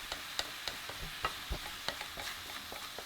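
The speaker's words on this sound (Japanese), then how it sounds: "この時バターと塩が全体になじむように全体的に混ぜてから蓋をしてゆっくりシュエしていきます。" Onions with butter and salt are stirred in a pot before being covered to sweat, producing a soft sizzle under irregular spoon scrapes and clicks against the pot, quiet and close with no talking.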